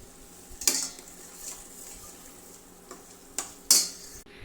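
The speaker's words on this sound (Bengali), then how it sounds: "এই যে এখানে মাংস কষাচ্ছি" Meat stirred and browned with spices in a pan gives a soft sizzle, with a few sharp clanks of a utensil against the pan, one early and two near the end.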